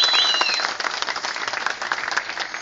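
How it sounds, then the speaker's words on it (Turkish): Crowd applause at an MHP political rally in İzmir, a dense sustained wash of many hands clapping, loudest at the start and then settling into steady, slightly thinner clapping throughout. "Bu alkış yeter mi arkadaşlar?"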